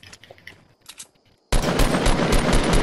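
Rapid automatic gunfire bursts loudly in a Fortnite match, a dense continuous volley after quieter scattered shots and game sounds at the start.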